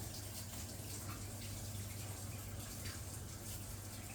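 Tap water runs steadily as a cake mould is rinsed in a home kitchen while individual moist cakes are being made. The water gives a continuous, faint, even hiss and splash, with no one speaking.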